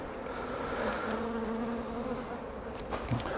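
A dense, steady buzzing of many honey bees at an open hive while a honey super frame is checked, close and continuous with no talking.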